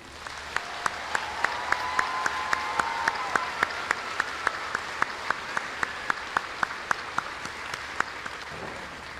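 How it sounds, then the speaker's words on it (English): An audience at a military basic training graduation ceremony at Fort Jackson applauds for drill sergeants, a sustained round of clapping with crisp, regularly spaced loud claps standing out over the crowd. "please join me in a round of applause to honor the tireless work of our drill sergeants"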